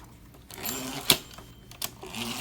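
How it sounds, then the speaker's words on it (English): Keys strike on a vintage Olympia typewriter, a few sharp close clacks spaced irregularly, one louder snap standing out, with quiet room tone between. "That is how the typewriter sounds when I am typing on it."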